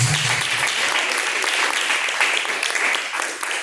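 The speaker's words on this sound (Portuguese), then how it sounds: "Palmas que louvam e engrandecem a Deus." Congregation clapping during a church service, a loud, continuous wash of hand claps from many people that stays even throughout, with a brief voice at the start.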